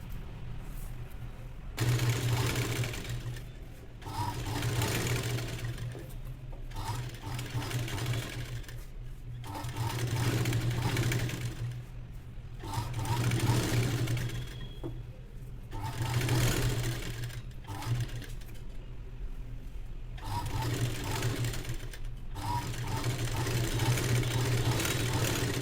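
Sewing machine stitching the back of a zari-worked blouse, running in repeated bursts of steady mechanical whirring separated by short pauses, close and fairly loud.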